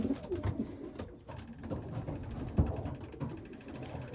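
Racing pigeons coo softly nearby in a loft in low, throaty, repeating calls, with faint creaks in the background.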